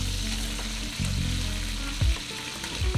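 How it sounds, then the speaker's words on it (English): A fish fries in hot oil in a tilted wok, giving a steady loud sizzle and crackle. The oil swishes across as the pan moves, with a few brief scraping bumps close by. "tilt the wok and swish the oil so that every part of the fish touches the hot oil"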